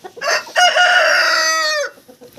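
A rooster crows once, loud and close, a long strained cock-a-doodle-doo that rises and breaks off abruptly, with a few short clucks around it.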